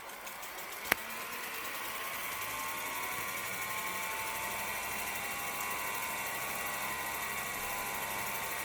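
A Fostex R8 multitrack tape recorder rewinds to its zero point, its reel motors producing a continuous whirring whine whose pitch slides steadily, preceded by a single sharp click.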